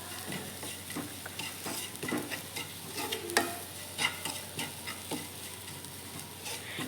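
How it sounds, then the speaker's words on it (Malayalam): Grated coconut and sugar sautéed in a pan, with a steady close sizzle broken by repeated scraping stir strokes and a few sharp utensil clicks against the pan, no voices. "അതിലേക്ക് ഷുഗർ ആഡ് ചെയ്യുക കേട്ടോ. എന്നിട്ട് നന്നായി ഒന്നും കൂടി വഴറ്റി കൊടുക്കാം."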